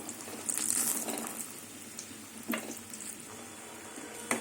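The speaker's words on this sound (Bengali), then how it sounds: "বড়িগুলো লাল লাল করে ভেজে নেব" Lentil dumplings (bori) fry in hot oil, a soft steady sizzle with occasional stirring scrapes and a few brief louder clatters, close by.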